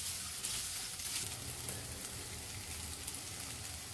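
Boiled noodles and chicken are tossed together in a hot pan, making a continuous, even sizzle with faint stirring underneath and no voices.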